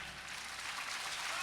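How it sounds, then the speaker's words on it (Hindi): Thin, scattered applause from a seated audience at a Hindi religious discourse in Udaipur, a faint continuous patter of clapping throughout. "मरी मरी तालियां हैं तुम्हारी"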